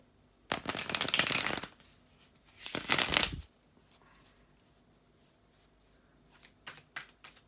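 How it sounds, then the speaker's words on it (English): Tarot cards are shuffled close up in two bursts of crisp riffling and rustling, followed by quieter handling and faint taps of the deck. "to shuffle the tarot cards"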